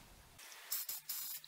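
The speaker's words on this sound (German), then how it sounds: "wir sprühen 3 Schichten Schutzlack auf und dann 2 Schichten Plasti-Dip" An aerosol can sprays protective lacquer onto an FPV drone in a few short, hissing bursts, quiet and close, with brief pauses between them.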